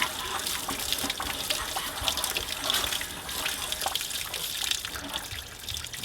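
Water drains steadily from an RV holding tank, with the pressure relief valve open during winterizing, giving a continuous close rushing splash with no pauses.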